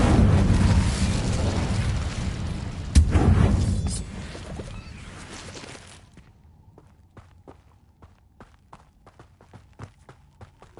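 A fiery Incendio spell cast in a Harry Potter video game bursts out with a loud whooshing blast and a sharp crack, then fades into quieter scattered footsteps and small clicks.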